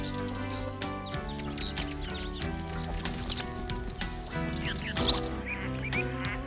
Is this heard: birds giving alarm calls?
yes